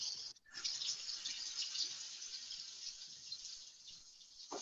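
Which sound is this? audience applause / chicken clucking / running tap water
running tap water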